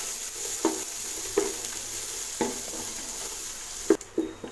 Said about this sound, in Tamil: இப்போ இது கூட நம்ம 3 பெரிய வெங்காயத்தை நீல வாக்கில் கட் பண்ணி வச்சுருக்கேன். இதில் சேர்த்துட்டு வதக்கி விட்டுக்கோங்க.